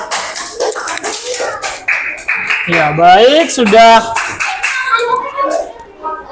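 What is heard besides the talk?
classroom applause for a student group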